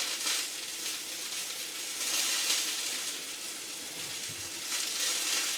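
Venison shanks searing on a hot flat top, a steady loud sizzle that swells and eases in waves throughout, with no voices.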